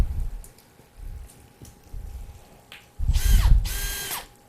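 Drill bit grinding into a hard egg-like shell, a few soft mechanical whirs followed by a loud, sustained grinding burst of drilling, close and with no talk.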